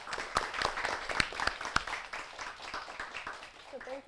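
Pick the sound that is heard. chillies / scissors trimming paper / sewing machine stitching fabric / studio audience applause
studio audience applause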